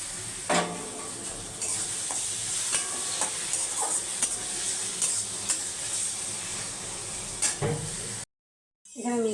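Grated tomato hits onions already frying in a pan for a fish curry, giving a continuous sizzle with clinks and scrapes of stirring throughout, ending in a sudden cut to silence.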